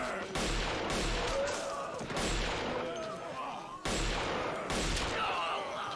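Gunfire from a Walking Dead episode comes as several loud, broad bursts spaced a couple of seconds apart, dense and echoing, mixed with other soundtrack noise.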